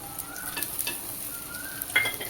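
Spice paste of ground spices mixed with water sizzles in hot oil for umbar handi, with soft crackling and a few scraping stirs, fairly quiet and close.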